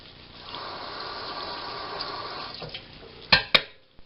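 A kitchen tap runs in a steady stream while something is washed under it during hamburger cooking, followed by a couple of sharp knocks as the flow stops.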